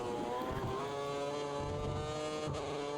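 A V8 race car engine in a Chinese Grand Prix racing video game holds a loud, steady high-revving whine with strong harmonic tones that stay nearly constant, with slight pitch dips around gear changes.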